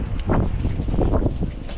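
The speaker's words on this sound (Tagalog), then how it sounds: "Ayan na, ang lakas na ng hangin." Strong typhoon wind buffeting the microphone outdoors, a loud rumbling roar with gusty surges that swell and fall continuously.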